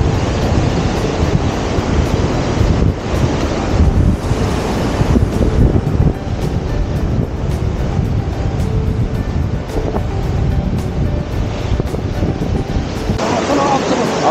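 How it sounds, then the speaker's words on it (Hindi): A mountain river rushes loudly and steadily as trekkers wade across it on a Himalayan trek to Nanda Devi East base camp in Kumaon, Uttarakhand, with gusts of wind buffeting the microphone throughout. "अब इस नदी में फंसे हैं हम लोग, नदी पार कर रहे हैं।"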